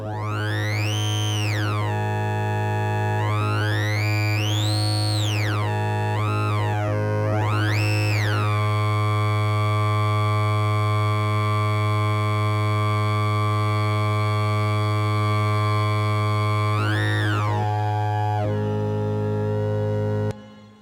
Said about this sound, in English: If we add a little bit of reverb,